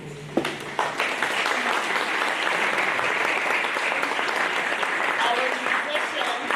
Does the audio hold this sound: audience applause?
yes